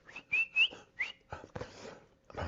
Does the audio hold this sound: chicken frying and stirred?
no